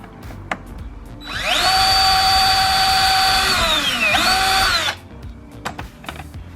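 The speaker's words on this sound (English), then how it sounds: "I'm going to use one of the supplied screws from Mountune and just screw into it" A power drill drives a supplied Mountune screw into the plastic lower spoiler of a Ford Fiesta ST, one loud sustained whine that rises, dips briefly near the end, then stops, with quiet handling noises around it.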